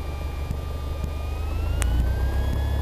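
A small airplane engine drones steadily during takeoff on a runway, with a low, even roar and a faintly rising tone that holds throughout.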